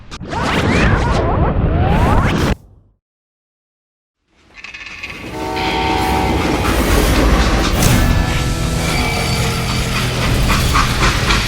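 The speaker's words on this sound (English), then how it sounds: "They hopped a freight train" A freight train in a video game rumbles and clatters loudly, cutting to a moment of silence before the heavy rolling roar and rattling wagons resume and continue steadily.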